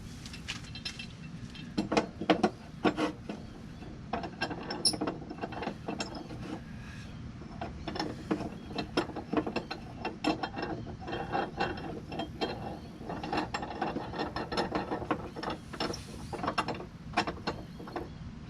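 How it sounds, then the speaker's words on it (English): A ratchet loosening the blade nut on a Toro mower clicks rapidly and repeatedly in short bursts, close up and fairly quiet, with brief pauses between runs of clicks. "So you can use a ratchet"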